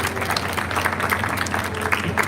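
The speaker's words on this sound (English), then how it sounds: "give a round of applause for the members of Gone as loud as you possibly can" Brief, brisk applause from an audience for panel members at a climate ambition event, many hands clapping together over a low background hum.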